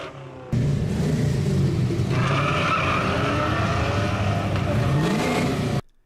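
A Ford Mustang GT V8 engine roars loudly while driving, with tires skidding and squealing and the engine note rising and falling before cutting off abruptly.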